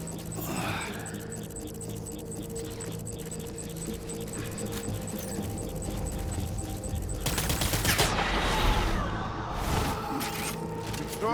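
Gunfire in the video game Death Stranding, rapid automatic bursts rattling under dense game ambience and music, swelling louder toward the end with a sharp crack near the close.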